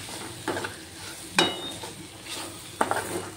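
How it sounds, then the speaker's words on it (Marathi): Semolina roasting and being stirred in a pan for upma, with three distinct scraping strokes of a spoon against the pan over a faint, steady sizzle, close and fairly quiet. "आता याच्यामध्ये रवा टाकायचा आहे आणि छान असा रवा भाजून घ्यायचा आहे"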